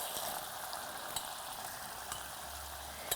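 Mutton spleen and kidneys fry in a pan on a stove with a continuous soft sizzle, broken by a few faint clicks and pops. There is no talking.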